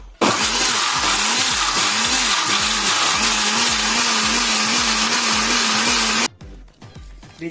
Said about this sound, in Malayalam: ഈ ഇൻഗ്രീഡിയൻസ് എല്ലാം ഇട്ട് കുറച്ച് വെള്ളവും കൂടെ ഒഴിച്ച് മിക്സിയിൽ അരച്ചെടുക്കുക.